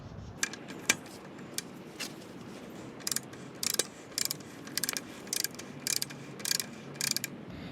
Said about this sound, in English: Set it to the highest setting again, and we're going to take this front axle off.